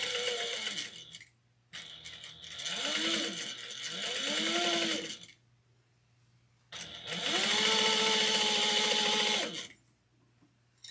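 A sewing machine stitches a fabric wristlet in three sustained runs of whirring motor noise, with short pauses between bursts, close and steady.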